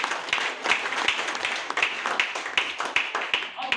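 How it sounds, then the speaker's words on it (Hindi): Applause from an audience at a business plan presentation, a steady dense patter of clapping with a few louder individual claps, continuing for several seconds without pause. "जबरदस्त तालियां।"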